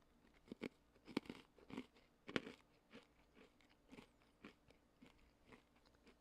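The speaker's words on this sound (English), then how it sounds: "you guys can hear the crunch too" Crisp, close crunching and biting of Snyder's snacks taken from a bag, a string of sharp irregular crunches with quieter chewing between them, no talking.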